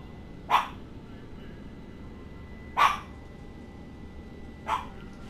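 A dog barks three separate times, sharp single woofs spaced a couple of seconds apart, moderately close against a quiet, low background hum.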